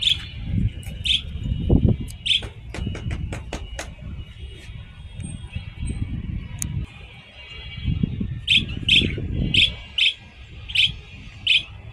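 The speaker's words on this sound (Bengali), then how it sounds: "পাখির ডাকটা শুনতেছো?" A caged albino or lutino bird gives repeated sharp chirps, first in a quick cluster and later in a regular series, over low rumbling background noise.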